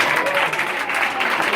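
Church seminary audience breaking into steady, dense applause with cheering, loud and close, a continuous wash of clapping throughout.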